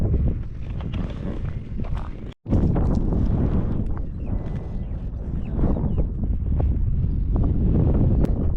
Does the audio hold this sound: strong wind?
yes